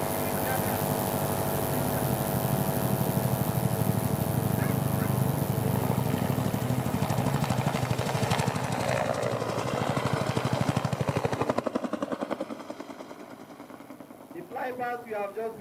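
A Huey military helicopter performing at the Nigerian Army Day Celebration 2025 display, a loud, steady rotor thump and turbine drone that fades toward the end, with a voice speaking over it.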